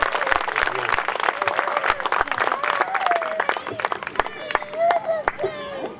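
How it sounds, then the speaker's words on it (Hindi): Audience applause at a Hindi comic poetry gathering in Yara Township, loud close clapping with crowd voices and scattered shouts mixed in, tapering slightly near the end. "एक बार और तालियां बजाकर उनका स्वागत"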